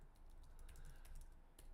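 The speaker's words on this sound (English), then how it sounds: "I'm just typing something in." Someone taps quickly on a computer keyboard, the key clicks faint and close against a low background hum, with no talking.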